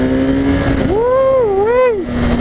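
A 2015 Kawasaki Ninja ZX-10R on a highway rises in pitch with a loud, close revving surge, then eases back to a steady engine whine, heard under wind noise.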